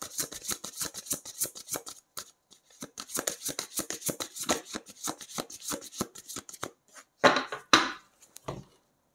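Tarot cards being shuffled and drawn from the deck, a quick run of crisp, close card snaps and riffles, then a short pause and a few louder flicks and slaps.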